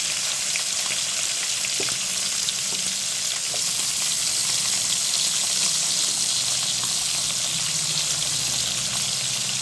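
Chopped onion and green chilli pieces frying in a pan for a Telugu brinjal-tomato fish gravy curry: a loud, steady sizzle with faint crackles and occasional stirring scrapes, and no talking.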